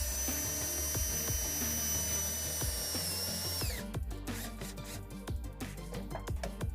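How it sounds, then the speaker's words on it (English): A power drill drives a self-tapping screw into clean metal to mount a ground wire while fitting trailer wiring on a 2019-2023 Ford Ranger, a steady whine for about four seconds that stops abruptly, followed by sharp clicks and knocks. "You can now install the ground wire with a self-tapping screw on a clean metal surface."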